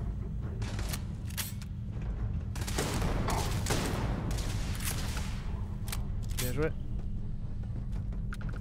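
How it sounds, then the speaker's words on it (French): A pump-action shotgun fires in Starfield during a boarding fight, with sharp, loud blasts arriving in several separated bursts across a steady game background, while a player talks in French over the action. "J'aime bien ce fusil à pompe."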